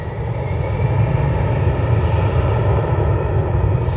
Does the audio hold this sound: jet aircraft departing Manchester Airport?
yes